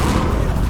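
A burst of Incendio fire magic from the video game Hogwarts Legacy, a short dense roaring rush of flame with crackling low-end rumble, loud and steady throughout.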